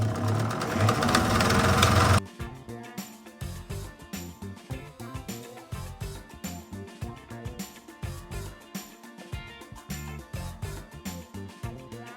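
An Elna Supermatic sewing machine runs a fast straight stitch while piecing a mushroom quilt. A loud, dense burst of motor noise opens the sound, then a quick rhythmic chatter of needle and mechanism pulses steadily to the end.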